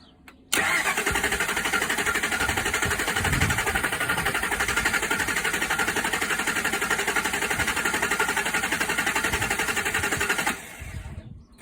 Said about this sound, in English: put the vehicle in flood mode and crank the engine over to see what we get for a voltage drop on the battery